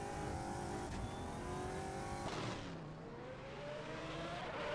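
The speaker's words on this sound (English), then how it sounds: "This is quite quiet engine actually." Race car engine in a GT1 racing video game at Monza, a loud steady drone with shifting pitch that dips briefly mid-way, with other cars' engines audible in the mix.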